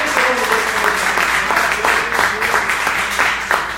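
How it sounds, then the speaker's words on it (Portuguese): Church congregation applauding for Jesus during a sermon, a loud, close burst of many hands clapping with a loose rhythm, voices and cheering rising over the clapping. "dê um aplauso ao Senhor Jesus."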